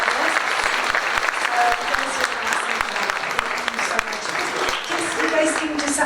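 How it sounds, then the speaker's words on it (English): Warm applause from a crowd at an employer recognition event, continuous clapping with some scattered murmuring voices underneath. "please give a big round of applause to our employers"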